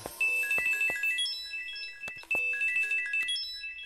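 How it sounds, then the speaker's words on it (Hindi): A bright electronic ringtone melody plays in repeating tonal phrases, fairly loud and close, with a few sharp clicks mixed in. "अरे वाह भौजी के फोन"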